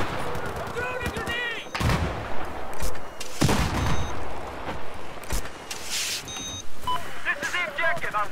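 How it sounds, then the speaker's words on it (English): Gunfire in the video game Battlefield 4, a close-quarters domination match with 48 players, comes as repeated bursts and single sharp shots from several directions, mixed with game beeps and people talking over it. "it's just a lot of firing from all angles"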